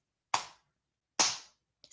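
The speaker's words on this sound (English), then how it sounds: "Every time we say Epo, you're going to pat your legs" Hands pat the legs twice during a seated home dance routine, two sharp, close slaps about a second apart, followed by the start of a third sound at the very end.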